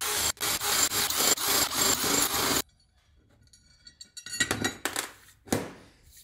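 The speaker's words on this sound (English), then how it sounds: "drill all them out quickly" A drill bores pilot holes in metal plate, with a loud continuous grinding, rasping run that stops abruptly, followed by quieter bursts of scraping and short further drilling.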